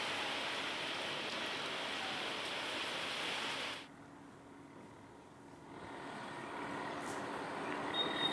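Heavy monsoon rain pours down in Maharashtra, a dense, even hiss that drops away abruptly for a couple of seconds midway before the steady downpour returns.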